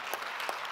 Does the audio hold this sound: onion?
no